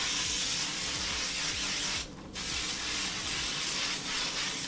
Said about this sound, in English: I'm going to use my Kenra volume spray and just spray it lightly all over my head